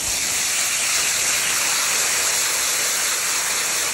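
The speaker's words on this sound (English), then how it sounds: "I just have the hot tap water that I'm using" Hot tap water running steadily in a hissing, splashing stream while raw Coopworth wool fleece is rinsed, close and constant with no voices.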